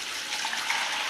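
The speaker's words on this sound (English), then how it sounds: "let's start with 3 cups warm water" Three cups of warm water are poured into a bowl to start a basic white bread dough, a steady, fairly close hiss of running liquid with no pauses.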